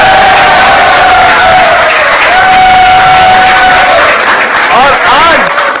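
A studio audience at a cricket comedy talk show breaks into loud, continuous clapping and cheering, with whistles rising over the dense roar throughout.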